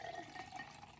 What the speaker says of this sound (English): Boy, that wasn't a very smooth pour.